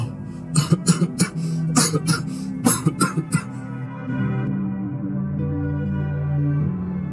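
A man coughs repeatedly in harsh, close bursts during the first few seconds, followed by a low, strained voiced rumble that fades.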